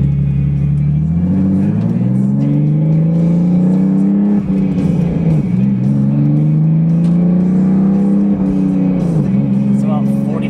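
A car fitted with a Horse Power Freaks Stage 2.5 kit revs through town driving, its engine note climbing in repeated pulls with brief dips between shifts. The engine sounds loud and close, with a person talking over it.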